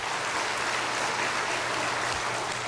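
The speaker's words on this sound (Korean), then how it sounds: "그 박수 한번 칩시다." A church congregation bursts into loud, dense applause during a sermon, an even wash of many hands clapping that holds steady throughout without any voices.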